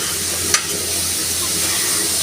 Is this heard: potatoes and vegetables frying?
yes